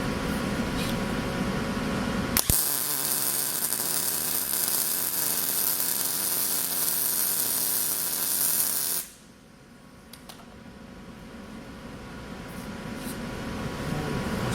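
Harbor Freight Vulcan Omnipro 220 wire feed welder running at 20 amps, wire fed at 400 inches per minute: a loud, steady crackling hiss starting abruptly and holding for about six seconds, then cutting off to a quiet hum.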